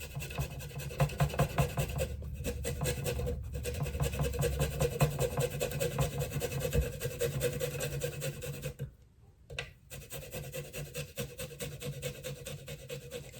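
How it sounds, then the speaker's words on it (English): Garlic rasps against a grater in quick repeated rubbing strokes, close and fairly quiet, with a brief pause partway through before the scraping resumes. "I want the garlic really fine. So I'm just going to use this grater."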